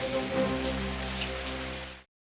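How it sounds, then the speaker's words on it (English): A heavy downpour pours over flames in a film scene, a steady, dense hiss of rain that holds evenly for about two seconds and then cuts off abruptly. "As the ice melts, it turns into a downpour,"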